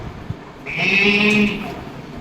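A voice mimics a lamb bleating, one drawn-out wavering bleat rising clearly after a short pause.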